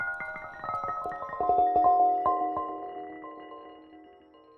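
A sample plays on the keys of a Waldorf Iridium: plucked, bell-like tonal notes strike one after another, then settle into a sustained chord that slowly fades out on its own.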